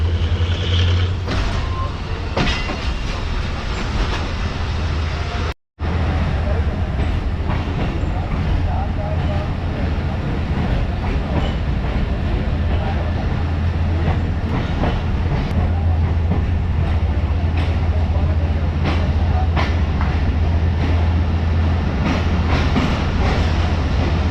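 The Pak Business Express passenger train approaches the main platform at Khanewal Junction with a loud, steady rumble and rattle of wheels and carriages that continues throughout, with one very brief dropout.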